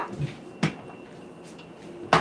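Drawers and cupboards in a kitchen are opened and shut during a search, giving a few separate wooden knocks and slides, close and moderately loud over a quiet room.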